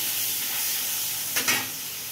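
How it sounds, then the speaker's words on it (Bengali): Batter-free fish slides into a hot wok of oil for a mustard-poppy seed fish curry, giving a steady hissing sizzle that flares in a brief louder burst partway through, with no voices. "মাছ কড়াতে ছেড়ে দেবো"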